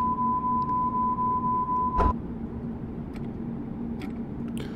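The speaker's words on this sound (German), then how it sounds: "Oh, schließen alle Türen." A steady electronic tone warns that a subway train's doors are closing in the Subwaysim Hamburg train simulator game. It ends with a sharp clunk as the doors shut, and low cab rumble continues afterward.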